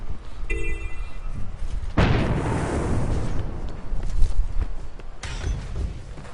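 Explosion in Guild Wars 2 from a thief's skill, a sudden loud blast about a third of the way in that rumbles and decays over a few seconds, bracketed by short electronic chimes before and after.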